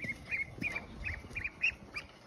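Several ducks on a small farm give faint, repeated short calls in an uneven rhythm, heard at a distance over a quiet outdoor background.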